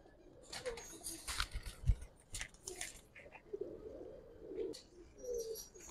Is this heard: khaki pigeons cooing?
yes